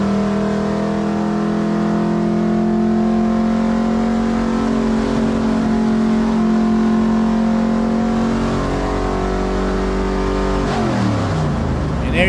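A race car's engine screams steadily against the rev limiter while stuck in second gear at Darlington Raceway, a loud sustained drone with the pitch holding flat before it drops away near the end.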